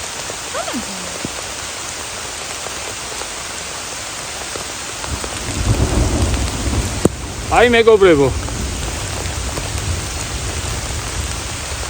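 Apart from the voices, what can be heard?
heavy rain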